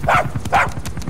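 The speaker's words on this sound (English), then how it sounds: "Poor puppy." A puppy in Metal Gear Solid 5: The Phantom Pain gives two short, close yelping barks, evenly spaced, with game sound running underneath.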